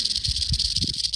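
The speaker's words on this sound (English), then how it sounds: "Oh, it's hissing at us." An awake, agitated snake hisses in South Georgia, a steady close airy hiss with faint rustling beneath.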